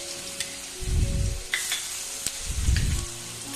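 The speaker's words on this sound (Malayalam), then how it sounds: "നെയ്യ് ചൂടാകുമ്പോൾ അതിലേക്ക് ഇഞ്ചി വെളുത്തുള്ളി പേസ്റ്റ് 1 ടേബിൾ സ്പൂൺ" Ginger garlic paste spits and sizzles in hot ghee, with close crackling frying under two soft rumbling stirring swells and occasional scrapes of a spoon against the pan.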